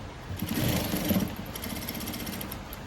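A sewing machine stitches a folded blouse cloth, a close mechanical whirring rattle that runs steadily for a few seconds, louder at first and then easing slightly.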